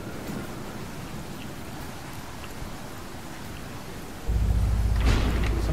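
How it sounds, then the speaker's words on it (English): Steady rain hisses throughout a Go Home Annie game scene, and near the end a deep low rumble swells in beneath it. "It's raining!"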